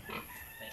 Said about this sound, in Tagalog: Iyang baboy bag-o nanganak.